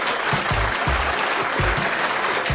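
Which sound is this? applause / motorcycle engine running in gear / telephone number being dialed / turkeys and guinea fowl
applause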